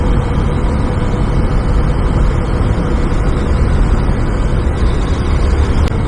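Steady, loud engine drone of a supermoto-style motorcycle being ridden, a continuous low rumble mixed with wind roar at an even level throughout.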